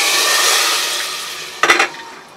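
A steady hissing sizzle fills the clip, then a brief burst of louder crackling spatters as a hot oil tempering is poured into mutton dal gosht curry, before fading back down.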